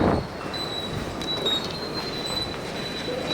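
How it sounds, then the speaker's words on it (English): A fast train in Seoul runs along steadily with a broad rolling rumble and rail noise. A thin high squeal from the wheels drifts in and out, moderately loud and with no talk. "So I took the fast train,"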